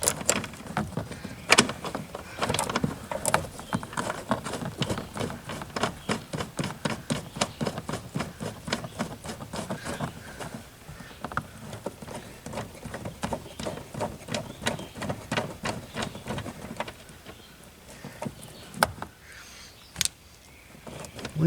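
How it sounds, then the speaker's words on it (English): A socket wrench ratchets a fastener loose on the tail light of a 2000 Kia Sportage, heard as a long run of quick, close, rhythmic clicks that slows and thins out toward the end. "Trying to use a socket to spin this one off."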